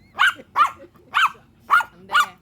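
A small dog barks five times in a steady rhythm, each sharp bark close and loud, separated by short pauses, with no talking over it.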